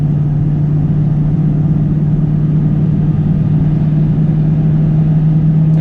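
A tuned Duramax L5P diesel pickup truck drones with a steady, loud engine rumble and low hum from inside the cab, holding an even pull throughout with no talking.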